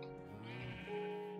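A Minecraft sheep bleats in a drawn-out, wavering cry lasting over a second, rising slightly partway through and heard close and clear with no talking.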